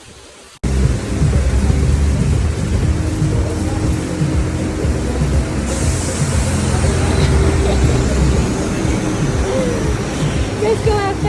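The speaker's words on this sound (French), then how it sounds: "Il pleut tellement." Heavy rain pours down in a dense, loud, continuous hiss that starts abruptly and holds steady, with people talking faintly underneath.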